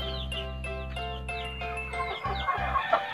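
Backyard free-range chickens, young Hubbard and Rhode Island Red heritage-breed birds about three months old, cluck steadily in their coop in the rain, a repeating run of close, fairly loud calls with a rougher burst near the end.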